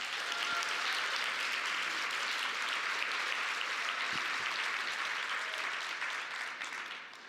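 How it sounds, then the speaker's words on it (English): A conference audience at a professional forum applauds in a continuous, even wash of clapping that holds for about seven seconds before tapering slightly at the end. "So I think we should give them a round of applause."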